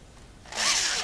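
A power drill starts abruptly halfway through, giving a short, loud, close whirring burst before stopping; the moment a bit breaks off is not separately audible.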